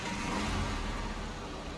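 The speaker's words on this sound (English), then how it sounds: "Start the engine." A truck engine in Snowrunner on a snowy mountain route running with a steady, loud mid-pitched rumble and slight revving, heard alone and close.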